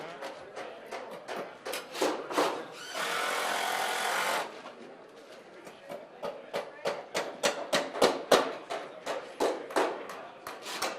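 Rapid, sharp hammer blows drive nails into a wooden stair stringer at a builders' challenge, a steady run of close strikes broken by a burst of harsher tool noise, with voices in the background.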